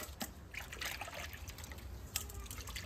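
Tap water trickles and splashes while fish are washed, a soft continuous running flow with a few brighter splashes, fairly quiet and close.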